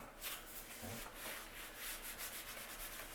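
Writing rubbed off a board with steady back-and-forth swipes, a continuous close scrubbing sound of moderate loudness with no talking.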